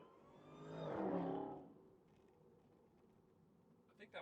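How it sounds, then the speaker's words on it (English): An electric Dodge Charger with an artificial engine sound passes by, a strange electric whir swelling to a V8-like growl and fading within about two seconds, moderately close, followed by quiet road ambience. "It made a very strange electrical engine sound, but then as it went by, it sounded like a V8."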